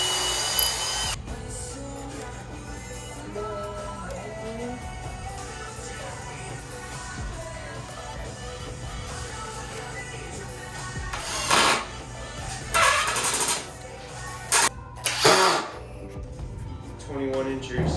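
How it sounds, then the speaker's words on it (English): A power drill drives screws into wood while a workbench is built. It whirs in short bursts with pauses between them, over a low steady hum, and a person talks in places. "Screwing in 2 of each side and checking for level."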